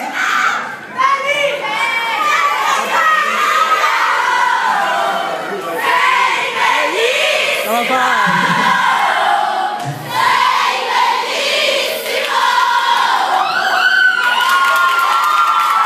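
A live concert audience in Palermo cheering and shouting loudly, a dense crowd roar with high voices and whistles rising and falling, sustained and close throughout.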